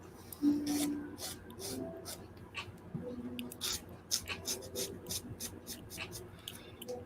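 A hand file scrapes across a workpiece guided by a finger, giving short, irregular rasping strokes with brief pauses between them, close and fairly quiet over a soft workshop background.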